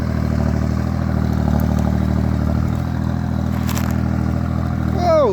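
A two-wheel walking tractor fitted with four exhaust pipes revs hard and close, its steady chugging engine drone holding loud throughout with a rising rev near the end.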